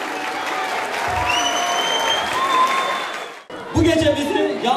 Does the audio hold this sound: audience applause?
yes